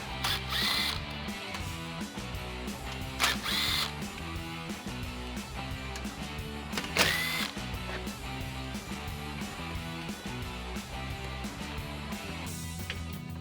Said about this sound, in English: I'm going to use a combination of a clip removal tool and a 7mm socket on my impact to remove the 4 screws